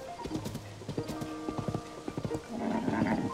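Horse hooves in the video game Zelda Tears of the Kingdom, a quick clip-clop of hoofbeats over tonal game music, ending in a softer rustling wash.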